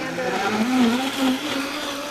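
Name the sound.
kitchen blender blending tomatoes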